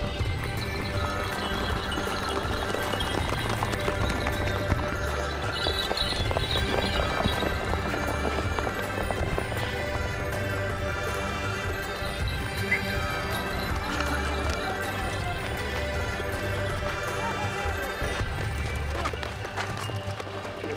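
Horses at a dusty racetrack on the steppe drum steadily with galloping hoofbeats, joined by whinnies, under a continuous dense wash of crowd and ambient noise that stays loud throughout.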